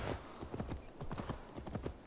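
Horse hooves clip-clop in a steady, rhythmic trot in the video game Assassin's Creed Valhalla, fairly close and moderately loud, with a faint ambient hum beneath.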